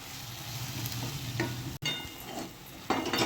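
Fenugreek leaves stirred into a gravy for dhaba-style garlic methi, a continuous low sizzle with occasional spoon scrapes and a brief break midway, close and moderately loud with no voices.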